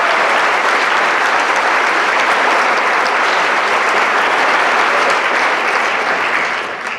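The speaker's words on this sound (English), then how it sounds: "Please join me in thanking all of them with a round of applause." Loud, sustained round of applause from an audience at a high school National Honor Society induction ceremony, a thick wash of clapping that holds steady before easing off at the end.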